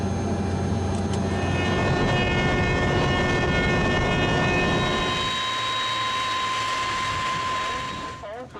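Jet engines of a Biman Bangladesh McDonnell Douglas DC-10 spool up during start, a loud steady whine with rising tonal layers and rumble that shifts midway and fades at the end, heard from inside the aircraft.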